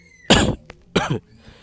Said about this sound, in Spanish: hasta tos tengo